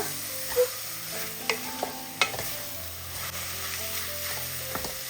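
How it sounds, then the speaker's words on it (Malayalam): Egg masala being stirred in a pressure cooker, a spoon scraping through the thick mixture with a few sharp clinks against the metal over a faint steady sizzle, no voices. "അപ്പം എല്ലാം കൂടി ഇതാ ഒന്ന് ഇളക്കി കൊടുത്തിട്ടുണ്ട്"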